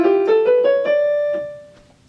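Two violins play the original accompaniment of a duet's evil theme, a short phrase of a few rising bowed notes that settles on a held tone and fades out, alone and close.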